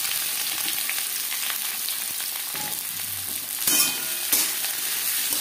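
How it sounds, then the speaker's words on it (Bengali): Chopped onion sizzles steadily in hot mustard oil, a dense continuous crackle with a few sharper spatters and a brief louder burst near the end, without any talking. "পেঁয়াজ হালকা করে ভেজে নেব।"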